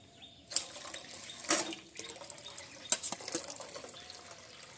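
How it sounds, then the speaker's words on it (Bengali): Cold water is poured onto cooked potatoes to replace warm water, with bursts of splashing and running water at close range, intermittent gushes and drips, no talking. "আবার ঠান্ডা জল দিয়ে আলুটাকে একেবারে ঠান্ডা করে নিতে হবে।"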